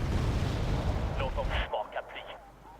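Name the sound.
artillery fire in the video game Wargame Red Dragon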